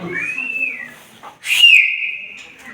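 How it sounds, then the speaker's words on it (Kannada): A student whistling in a class 9 science classroom: two loud, sustained whistled notes, the first gently rising and falling, the second sharper after a brief break, heard close and clear. "ಈಗ ವಿಸಲ್ ಹೊಡಿತಾನೆ ಶಬ್ದ ಉತ್ಪತ್ತಿ ಮಾಡ್ತಾನೆ"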